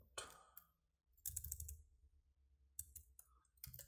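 Command being typed on a computer keyboard while setting up a Debian server: a few short bursts of key clicks separated by quiet gaps, close and moderately loud, with no talk.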